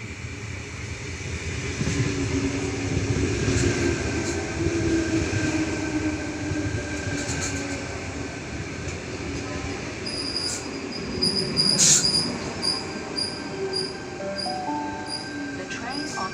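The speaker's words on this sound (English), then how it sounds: "Bondi Junction service now on approach to platform number 3." A train rumbles steadily as it pulls into platform 3 on a Bondi Junction service, with wheels hissing and faint squeals, and a bright chime-like tone sounding near the end.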